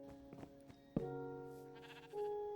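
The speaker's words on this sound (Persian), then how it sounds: "گوسفنده برو دنبالش" Sheep bleating in the video game Minecraft, a few drawn-out bleats close by with no one talking over them, the last one rising slightly in pitch.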